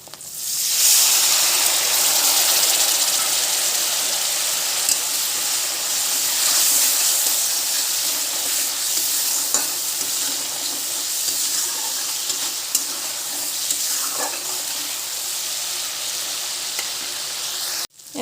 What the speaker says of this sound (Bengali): এখন এখানে অল্প একটু জল অ্যাড করে দেবো।